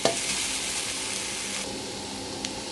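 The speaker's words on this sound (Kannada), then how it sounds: "ಇದೆಲ್ಲ ಚೆಂದ ಎಣ್ಣೆ ಹಾಕಿ ನಾವು ಹುರ್ಕೊಳ್ಬೇಕು" Whole spices for North Karnataka-style garam masala roast in oil in a pan, a soft, steady sizzle with faint stirring scrapes, heard close up without any talking.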